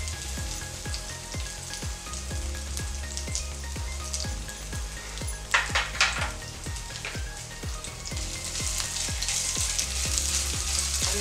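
Ginger, chilli and garlic paste sizzling in hot oil in a pan, a continuous close crackling fry with a rhythmic pulsing undertone and a brief burst of louder spattering midway, no voices.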